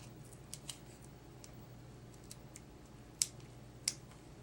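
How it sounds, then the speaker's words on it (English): Scissors snipping through paper or card during Christmas card making, a few faint quiet clicks followed by two sharper close snips in a hushed room. "They're the best scissors. They cut everything."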